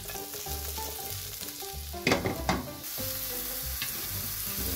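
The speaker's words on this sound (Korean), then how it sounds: "먼저 올리브유를 후라이팬에 부어주고요" Broccoli, button mushrooms, shrimp and squid frying in olive oil in a frying pan, a steady close sizzle with stirring and a few louder clattering bursts midway, no talking.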